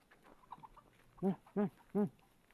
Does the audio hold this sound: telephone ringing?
no